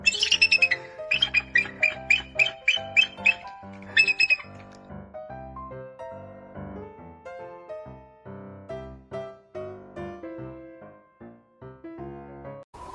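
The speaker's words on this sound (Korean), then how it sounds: "진짜 흰머리수리는 이렇게 울어댑니다" Bald eagle calls: a run of thin, high chirping squeaks and chittering notes in quick clusters early on, then fading under sustained musical tones for the rest.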